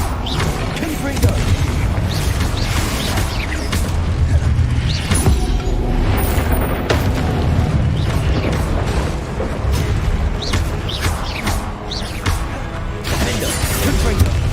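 Repeated Confringo fire-blast spell bursts in the Hogwarts Legacy video game, dense booming impacts with creaking, shattering debris over a steady loud mix of game sounds.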